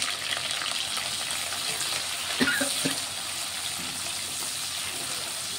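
Onion and green chilies frying in hot oil, a continuous close sizzle with a few clinks of a utensil against the pan midway.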